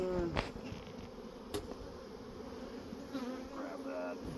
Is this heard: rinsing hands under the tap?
no